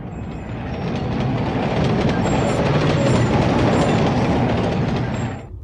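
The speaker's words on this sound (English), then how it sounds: "Wait, train." A train passing in the video game Carrier Command: Gaia Mission rumbles and clatters loudly, a steady roar of wheels rising in and fading out over about five seconds with faint squeals, no talk.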